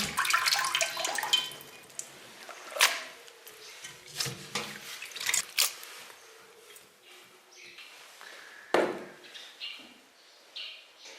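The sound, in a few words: washing grass carp fish meat and bones under running water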